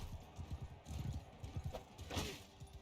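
Horse hooves clip-clop in a steady, close rhythm in a medieval-style video game, with a brief whinny-like burst near the end and faint background noise.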